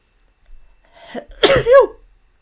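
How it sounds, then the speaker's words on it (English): A single sharp sneeze with a sudden, loud burst, preceded by a short breathy intake and followed by a brief trailing vocal sound. "I need to sneeze, I think."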